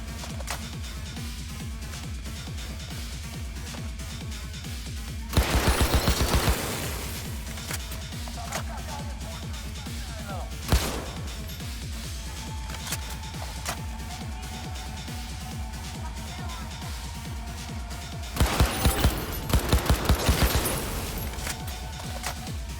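Automatic gunfire in Cyberpunk 2077, two loud rapid bursts and a single sharp shot between them, heard over a steady humming game soundtrack.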